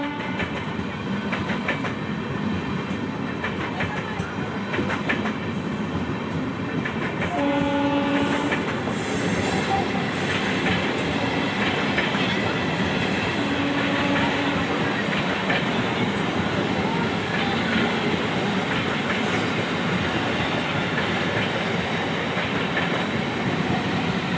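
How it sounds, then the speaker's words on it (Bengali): A local train rolls past alongside, a loud continuous rumble with rhythmic clatter of wheels on rail, brief horn-like tones and some squeal, at a station with a newly decorated Amrit Bharat express standing nearby. "পাশ থেকে একটা লোকাল ট্রেনেও আসছে।"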